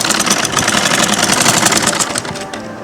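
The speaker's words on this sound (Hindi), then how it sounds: "और फिर से हम अपनी सीधी सिलाई लगाना शुरू कर देंगे" A sewing machine stitches a border onto a saree, a fast, continuous close-up rattle of the needle running steadily with no talking.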